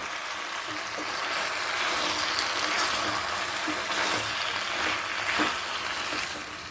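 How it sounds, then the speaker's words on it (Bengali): Vegetables cooking for a fish-head chhechra are stirred in a frying pan, a continuous sizzle with scraping and clacks of the spoon recurring every second or so. "ভালো করে মিশিয়ে দিচ্ছি যাতে সব দিকে মিষ্টিটা ছড়িয়ে পড়ে"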